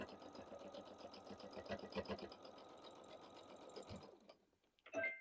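A sewing machine runs steadily for about four seconds, stitching fleece for a sheep quilt block, its motor whirring and needle rattling close by before stopping, followed by a brief clink.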